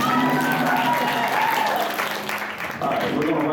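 Audience applause at an anime convention game show styled as Who Wants to Be a Millionaire, with a steady, dense wash of clapping from a crowd that holds throughout, a voice or two blending in.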